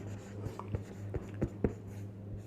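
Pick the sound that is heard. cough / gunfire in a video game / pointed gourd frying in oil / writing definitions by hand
writing definitions by hand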